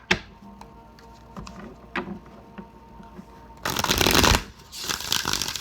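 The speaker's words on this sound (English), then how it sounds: "Wow, this is a really fast shuffle." Soft riffling clicks give way to a burst of rapid, loud shuffling of tarot cards near the end, a dense crackling flutter of cards.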